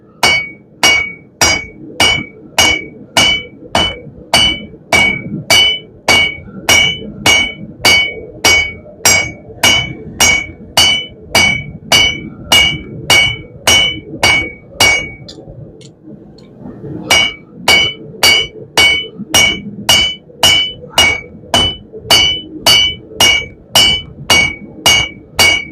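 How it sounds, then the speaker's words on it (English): Loud, steady hammer blows ring on metal being forged into a herb chopper, in a regular rhythm, dozens of strikes with a brief pause midway, each with a bright metallic clang. "When you're using the flat side of the hammer, you want to control it more"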